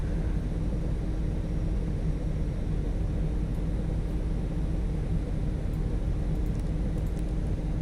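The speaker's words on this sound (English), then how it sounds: "So number 2 is spooling up." An Airbus A350 engine spools up in X-Plane 11, a steady, loud broadband jet roar that holds constant throughout with no voices.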